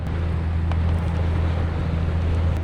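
Steady low engine drone of a tour boat running continuously in Sitka, Alaska, with wind buffeting the microphone over it; no talking.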